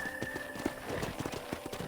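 Horse hooves in the Western video game Red Dead Redemption, a quick rhythmic clip-clop of a horse moving on a ranch property, fairly faint and steady with a low game soundtrack beneath.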